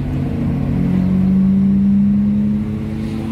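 A Toyota Celica GTS with a 2ZZ-GE engine idling close by with a steady low hum that rises slightly, then settles back down.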